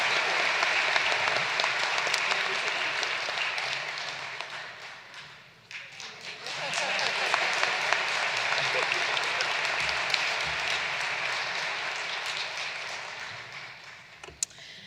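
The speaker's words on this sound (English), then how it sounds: "with a round of applause" A large commencement audience applauds steadily, a dense wash of clapping that dips briefly midway and then swells again before fading.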